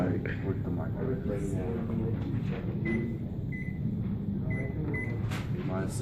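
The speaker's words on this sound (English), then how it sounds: "Alright, work the microwave." A microwave oven runs with a jawbreaker candy inside, giving a steady, close, droning hum with a few faint short tones and low voices in the background.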